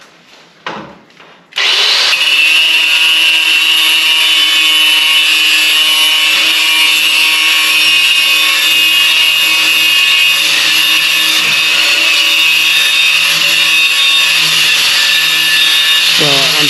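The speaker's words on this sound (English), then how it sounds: "I'm going to use a metal grinder to try to polish it down a little bit" A metal grinder polishes down a metal railing at a stone cottage build, a few faint knocks giving way to a loud, continuous high-pitched whine and abrasive screech held steadily close by.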